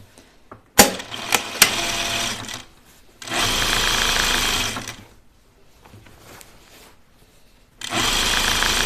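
A sewing machine stitches the inseam of tightly woven pajama bottoms in three bursts: a short run with a few clicks, a longer steady whir, then a pause and another run starting near the end.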